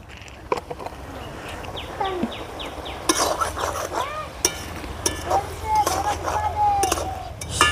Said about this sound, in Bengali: শাকগুলো আমি ভালো করে নেড়ে চেড়ে মাছের সঙ্গে মিশিয়ে নিয়েছি।